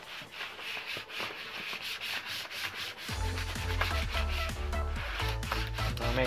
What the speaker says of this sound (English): take your credit card and go ahead and rub on the clear side.